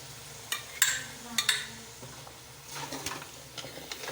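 Tomato puree stirred and fried with mutton in a pan, soft sizzling under scattered scraping and clinking strokes of a spoon against the pot, close and moderately quiet.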